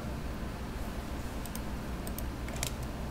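Mouse double clicks and a Ctrl+A keyboard shortcut while working in SketchUp, heard as a few faint, sharp clicks scattered late in the moment over a steady low hum, with no talking.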